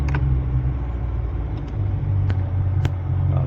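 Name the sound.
old engine started and idling low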